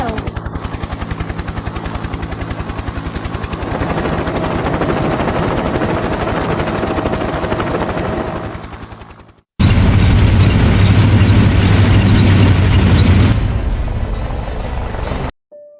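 A helicopter engine and rotor roar loudly and steadily in a zombie outbreak scene, with heavy thudding and gunfire-like bursts mixed in; a brief cutoff interrupts the drone before it resumes even louder.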